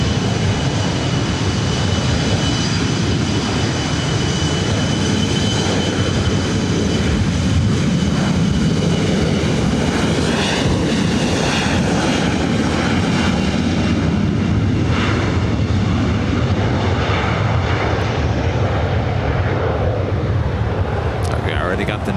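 A Southwest airliner lands at LAX on runway 24 right, its broad engine roar loud and steady throughout with a hissing high-frequency wash, while a voice talks over it.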